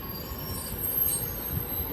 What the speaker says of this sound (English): Train now passing is a 156.